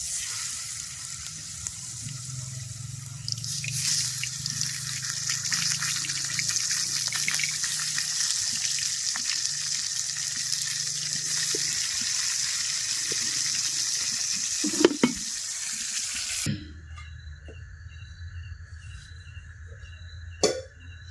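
Fish marinated with salt, turmeric and chili fried in hot oil in a village kitchen: a loud, steady sizzle and crackle sustained for about fifteen seconds, then cutting abruptly to a quieter background hum.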